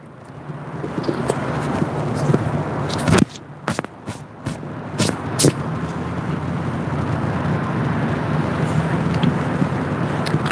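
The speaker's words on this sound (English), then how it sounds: "How's the traffic noise out here" Steady road traffic hums and swells beside an outdoor grand opening event in Pace, Florida, with vehicles passing continuously and a few sharp knocks and bumps close by partway through.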